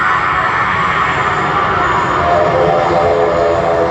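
Jet airliner at Sydney Airport, a loud, steady, close roar of engines with a broad hiss that holds for a few seconds without easing.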